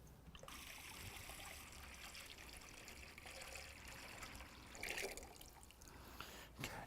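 Water poured into the base of a solar-powered garden pond pump trickles softly and steadily throughout, a faint continuous dribble with a slight surge near the middle.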